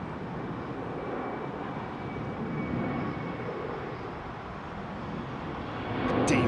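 An Airbus A320neo jet at London Heathrow produces a steady, loud, broadband engine roar that holds throughout and swells slightly at the end.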